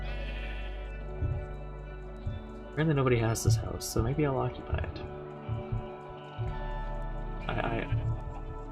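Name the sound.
sheep bleating in video game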